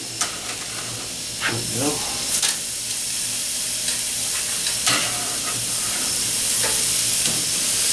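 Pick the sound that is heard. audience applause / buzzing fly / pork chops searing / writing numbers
pork chops searing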